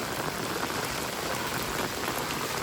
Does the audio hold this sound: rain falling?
yes